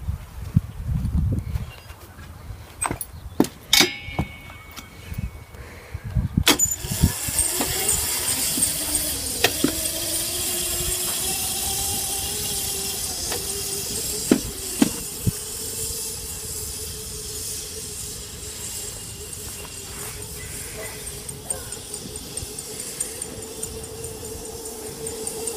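A dirt bike engine runs steadily, its droning hum climbing in pitch and then holding at a fairly quiet level, with scattered clicks and knocks around it.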